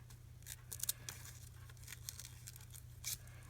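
Dull scissors, with only the top part of the blades still cutting, snip around a picture in magazine paper. The cuts come as faint, irregular snips and crinkles over a low hum, with no talking.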